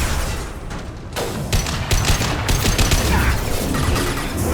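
Dense, continuous gunfire from Mass Effect 2 combat, with rapid bursts and booming impacts filling the whole stretch at a loud, steady level and no talk over it.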